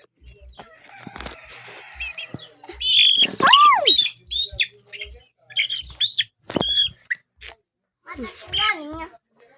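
Small pet birds, both females and males, squawk in repeated harsh bursts, with some rising and falling calls scattered through a close, fairly loud stretch.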